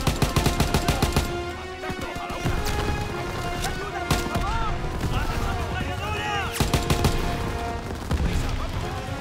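Machine-gun fire and explosions in the Call of Duty WW2 video game, with dense, continuous bursts of shots and crashes layered through the whole stretch. Loud game music and effects run beneath, and a voice is heard in places.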